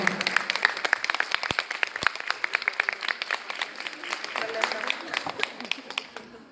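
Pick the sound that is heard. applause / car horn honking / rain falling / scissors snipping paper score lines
applause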